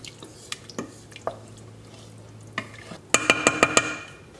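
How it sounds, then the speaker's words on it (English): Coconut milk and vegetable broth poured into a pan with tofu, heard as a few close splashes and drips followed by a quick run of clattering stirs against the pan near the end. "I'm just gonna add in the coconut milk and some vegetable broth."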